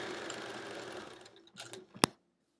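A sewing machine stitches quilt pieces in a steady, fast mechanical whir that runs for over a second, stops, then gives a few short bursts and a sharp click at the end, close and fairly quiet.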